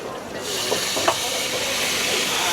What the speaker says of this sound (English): Look at that. Sizzling, sizzling.